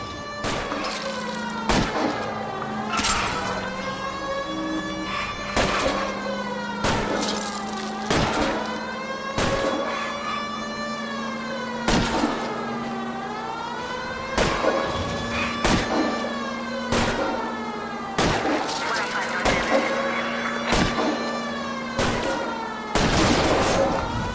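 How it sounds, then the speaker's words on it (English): Rapid gunfire in the L.A. Noire video game, shots aimed at a fleeing car's tires, sharp repeated bursts over a loud engine drone and swerving tire whine throughout. "I'll try to shoot out his tires"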